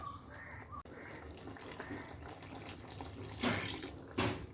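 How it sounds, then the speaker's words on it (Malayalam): Tap water runs steadily into a sink, with a couple of louder splashy gushes near the end as a jar is rinsed. "ഈ ജാറ് കഴുകി കുറച്ച് വെള്ളം കൂടി ഇതിലോട്ട് ഒഴിച്ചു കൊടുക്കാം"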